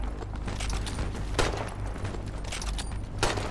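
Steady distant gunfire in a multiplayer shooter video game, a continuous crackle with a couple of sharper louder bursts standing out, no talking.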